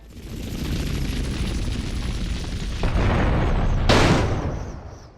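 A plane explodes in the GTA Vice City Stories video game: a broad, heavy roar builds and rumbles steadily, then a sharp blast bursts near the end before the sound fades away.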